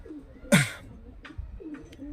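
Fancy racing pigeons from Murshidabad give a couple of soft, close coos amid a quiet background, with one louder burst of fluttering or calling in the middle.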